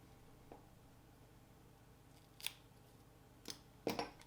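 Scissors snipping polar bear hair for fly tying, a few quiet, sharp clicks spaced irregularly over a faint background hum, close and with nobody talking.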